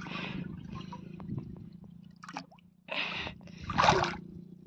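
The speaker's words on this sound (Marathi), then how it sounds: "कळशीने पाणी भरतोय आता मी।" Pond water pours and gurgles into a metal kalash in a few close, splashy bursts with quieter stretches between them.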